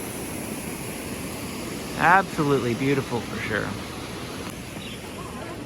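A waterfall flows into a lake at the San Diego Zoo Safari Park, making a steady, even rushing hiss. It continues throughout while someone briefly speaks over it midway.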